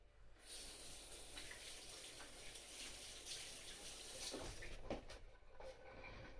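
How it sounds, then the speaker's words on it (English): Hands rinsed under running water from a tap in a kitchen while making creamed potatoes: a faint, steady splashing flow with brief rubbing and clatter near the end. "Let me just rinse my hands."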